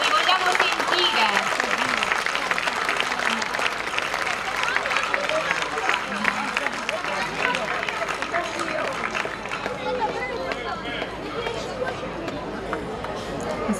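A crowd at an outdoor folklore festival in Lavello, Italy, claps in dense, sustained applause that gradually softens, with scattered voices and chatter mixed in.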